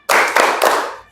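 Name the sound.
rhythmic clapping, 'tepuk semangat' clap chant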